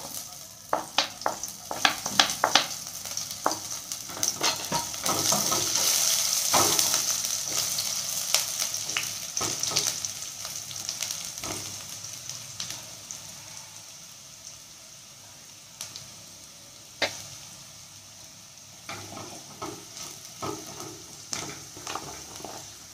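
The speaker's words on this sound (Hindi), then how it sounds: "अब इसमें हम लहसुन और मिर्ची डालेंगे," Garlic and chillies frying in oil with cumin in a wok (kadhai) for egg bhurji, a crackling sizzle with sharp pops and stirring clicks, loudest early then settling to quieter intermittent spitting.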